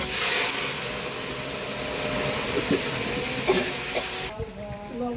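Jackfruit pieces dropped into hot oil tempered with dried red chili, bay leaf and cumin, giving a loud, steady broadband sizzle that crackles throughout and then eases slightly near the end.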